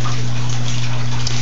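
Water runs steadily through a spin filter in a fish tank, with a capped outlet directing the flow, giving a constant close rushing wash over a low electrical hum from the pump.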